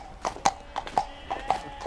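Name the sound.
horse hooves clip-clopping while being ridden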